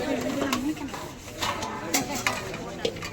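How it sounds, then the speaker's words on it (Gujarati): Utensils being scrubbed and washed by hand during a Gujarati household ritual gathering, with repeated short clattering scrapes and metallic knocks amid busy background murmur and voices. "વાસણ ઘસવા માંડી છે."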